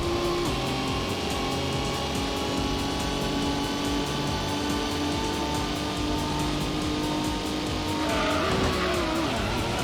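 Toyota Supra in the Gran Turismo racing game, a steady loud engine drone with tyres squealing and skidding, the pitch dropping sharply near the end.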